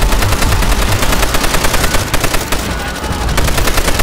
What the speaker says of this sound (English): Oh, they got an MG up there.